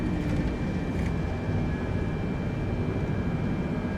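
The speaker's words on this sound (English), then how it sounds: "Main wheels touch down, speed brakes up. Full reverse." An Airbus jet's engines roar in full reverse thrust right after touchdown in Microsoft Flight Simulator, a steady, loud, broadband rush with a faint tonal whine running through it.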